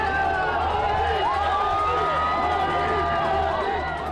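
Dense crowd noise along a roadside where people line the route of the Prime Minister's convoy, a steady mass of overlapping voices and shouts with a low engine rumble underneath, continuous and fairly loud throughout.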